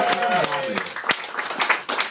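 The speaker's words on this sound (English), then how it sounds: "Clap it up for Dave Smith, guys." A comedy club crowd applauds comedian Dave Smith, scattered claps and cheers punctuated by sharp hits, with a voice talking over the start.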